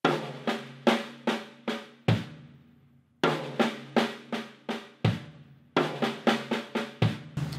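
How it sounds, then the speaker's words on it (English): Drum kit lick in a six-stroke roll pattern moving across rack tom and snare with a kick drum worked in, played in clipped groups of sharp close hits separated by short pauses. "It's kind of like a six-stroke roll, but you're using your foot as a part of your hands."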